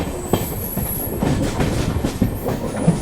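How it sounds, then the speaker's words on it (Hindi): The Swarna Rekha Express pulls away from a railway station, a loud, continuous rumble of rolling wheels with rhythmic clacks over rail joints and faint high squealing. "डिपार्चर का संकेत हो गया अपनी ट्रेन का।"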